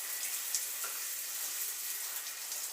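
A hotel shower runs in a steady hissing stream, bright and close, spraying evenly throughout with faint clicks and splashes now and then and no talking over it.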